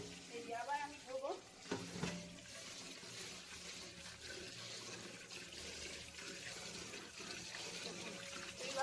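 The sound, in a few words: washing biuli dal lentils in water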